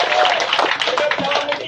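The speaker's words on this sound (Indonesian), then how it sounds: "Tepuk tangan buat seluruh guru di Indonesia." Crowd at an Indonesian memorial gathering applauding for teachers, a brief burst of fairly loud, dense clapping heard alongside voices.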